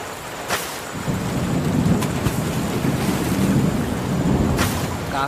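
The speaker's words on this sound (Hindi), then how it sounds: "बहुत तेज बारिश हो रही है।" Heavy rain pours steadily during a thunderstorm over a village fishing pond, with loud rumbles and cracks of thunder breaking through a dense, constant hiss of rainfall and wind, and no voices.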